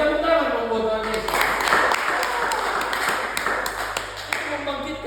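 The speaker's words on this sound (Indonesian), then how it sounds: "Tepuk tangan dong buat Tuhan Yesus." A small church congregation of about eleven people claps for Jesus, the irregular, fairly close clapping rising after the first second and carrying on steadily under a voice that keeps talking.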